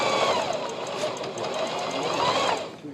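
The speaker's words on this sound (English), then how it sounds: "And this will sew right up over the seam. And I'll sew across this way also." A Singer sewing machine stitches across a thick fabric seam, giving a steady, close mechanical whir with a rapid needle rhythm that runs for the whole stretch with no talking.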